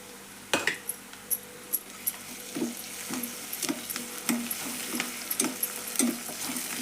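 Green chili paste sizzles in hot oil while a spoon stirs it, giving a steady low fry hiss broken by a regular series of sharp metallic taps and clinks against the pan, close and clear with no talk.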